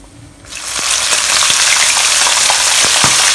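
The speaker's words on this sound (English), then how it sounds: "So now we'll deep fry the calamaris." Squid pieces for salt and pepper calamari dropping into hot oil for deep frying, a loud, close, steady sizzle that rises quickly and keeps crackling, with occasional stirring clatter and no voices.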